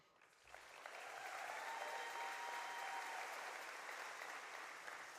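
Gala audience at a 20th anniversary celebration claps steadily in a large room, a dense, sustained wash of applause that swells after a quiet start and holds evenly throughout.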